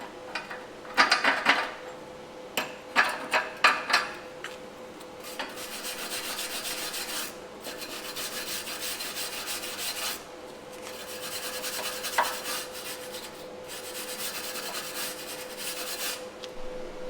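Metal scraping and brushing strokes clear slag from weld tacks during a grapple repair: a quick run of close, rasping scrapes, then longer steady rubbing passes with short pauses between them.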